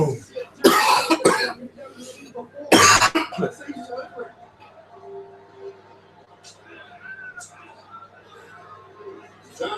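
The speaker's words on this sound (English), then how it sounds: "it's the closest thing to a cough sneeze I can imagine" Two sharp, explosive cough-sneezes burst out close by, then give way to quieter talking in the background.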